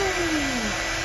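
A small hair dryer from a drawer in a cheap cruise ship cabin runs in a short steady burst, a close whining hum with a falling tone.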